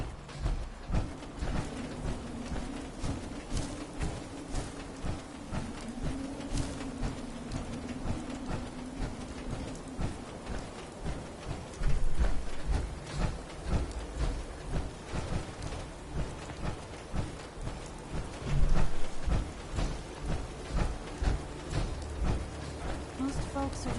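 Steady rain hisses throughout the Fallout 4 game world, joined by low rumbles of thunder that swell twice, with speech mixed in over the downpour.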